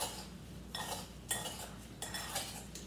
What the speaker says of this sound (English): So you're going to give that a stir.